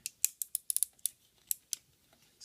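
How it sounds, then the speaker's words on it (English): Plastic legs of a Mastermind Creations Reformatted R-02 Talon transforming robot toy folded in, giving a quick run of sharp, close clicks and ratcheting snaps, about ten in quick succession and then a couple spaced out, with no talking. "Open both panels up, and you're going to fold the legs in."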